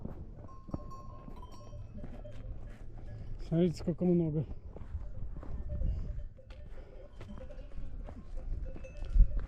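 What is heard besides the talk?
donkeys and sheep in a flock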